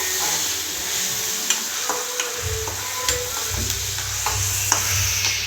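Curry leaves, onion and ginger paste fry in a pan, giving a steady sizzle broken by repeated scraping strokes of a spoon stirring, close and loud with no talking.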